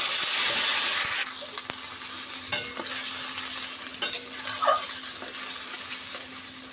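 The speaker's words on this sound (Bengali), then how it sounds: "আলুটা লাল লাল করে ভাজা হয়ে গেছে" Browned potatoes and ground spice paste fry in a pan with a loud sizzling hiss that settles to a steady crackle, broken by scrapes and clinks of stirring.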